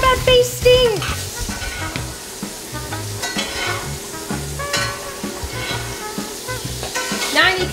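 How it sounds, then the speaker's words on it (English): Food basted in a hot pan sizzles and spits steadily throughout while being stirred, with voices calling out over the frying. "I'm doing a terrible job at basting!"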